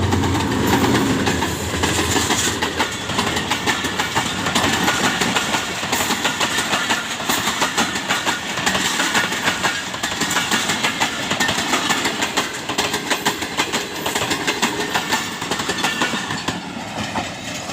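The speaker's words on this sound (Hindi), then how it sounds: "तो ये ट्रेन है, गुज़र गई।" A Pakistani train rolls past near a village railway station, a steady loud rumble with rapid clickety-clack of wagons over the rails sustained throughout, fading slightly toward the end.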